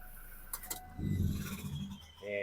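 A Toyota Revo pickup's 2.8 diesel engine shutting off: a low rumble swells then dies out with a short shudder, heard close, followed by a brief tonal sound near the end.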